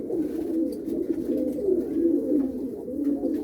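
Racing pigeons coo repeatedly in low, throaty warbles, several birds overlapping in a steady, close murmur.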